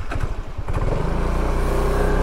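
A Vespa SXL 150 Piaggio scooter engine drones steadily while riding, a close, even motor hum that settles into a constant pulse after a brief uneven start.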